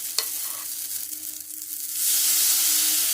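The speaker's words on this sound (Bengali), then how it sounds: "এরপর দেড় হাতা করে ব্যাটার কড়াইয়ের মধ্যে দিয়ে দিচ্ছি" Rice-batter chitoi pitha batter goes into a hot kadai brushed with an oil and water mix, bursting into a close, steady hiss that swells louder and holds as a broad sizzle.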